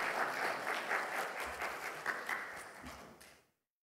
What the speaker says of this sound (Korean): 그거는 박수를 보내야지.